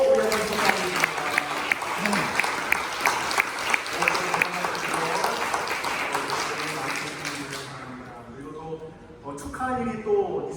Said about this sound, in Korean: 잠깐 박수로 우리 한번 축하드립니다.